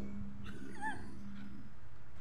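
Cat gives a single short, soft meow close by over a low steady background hum, with no talking.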